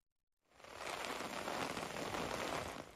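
Heavy rain mixed with hail pours down in Bolu, a dense, steady hiss and patter that begins abruptly after a brief silence and holds loud and unbroken.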